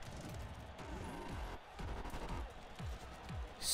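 Rapid SMG fire in the video game Borderlands, several quick bursts of shots in a row over a busy, faint game background, fairly quiet overall and ending on a brighter burst.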